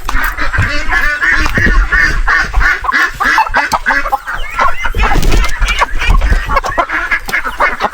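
A flock of native Filipino chickens clucks and squawks continuously and loudly close by at feeding time, with busy overlapping calls and scuffling.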